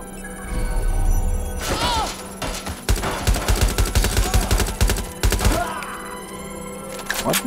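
AK rifle gunfire in Watch Dogs Legion, loud close bursts of rapid automatic shots in a steady rattling rhythm over several seconds, with game ambience and a few heavy thumps around them.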